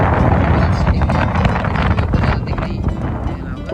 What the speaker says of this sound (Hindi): काफ़ी अच्छी हवा चल रही है अंदर।